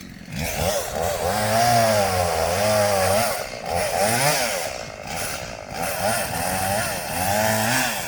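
A chainsaw with a new chain whines loudly and steadily as it cuts a fallen tree, its pitch rising and falling as the chain bites into wood, with brief dips between cuts.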